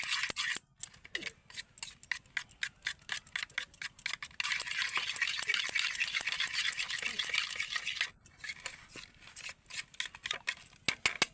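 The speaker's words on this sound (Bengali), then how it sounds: "এবার ব্যাটারের মধ্যে আমি রঙগুলো একে একে ভালো করে মিশিয়ে নেব" A spoon stirs coloured batter for pancake-style rolled crepes, scraping in a quick, steady rhythm of close, crisp clicks and swishes against the bowl with brief pauses, with no talking.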